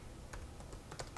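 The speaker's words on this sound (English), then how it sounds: "I'm going to copy the thing I have to type really fast" Quick, light keystrokes on a computer keyboard while entering a telnet command, a few scattered clicks over a quiet background with no talking.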